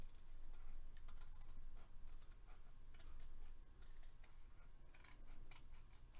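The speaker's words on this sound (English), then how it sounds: "I'm going to fussy cut around it really quickly" Small scissors snip around a stamped paper image in quick, faint, irregular cuts, with a soft rustle of paper and no talking.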